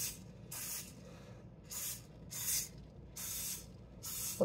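Cooking spray is misted into the cups of a cupcake pan in short hissing bursts, six quick sprays in a steady rhythm, close and fairly quiet.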